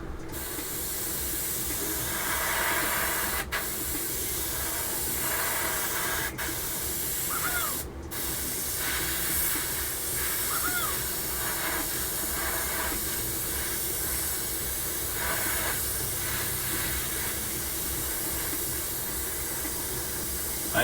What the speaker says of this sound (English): I hate spray painting the inside of interior buckets.